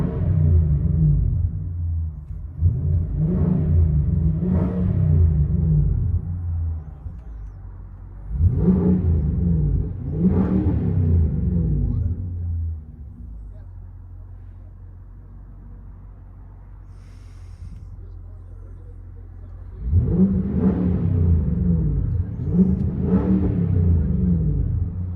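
2023 Infiniti QX80 with 5.6L V8 and Flowmaster Super 10 dual exhaust, heard from inside the cabin: several deep, loud rev bursts rising and falling, separated by a low muffled idle rumble.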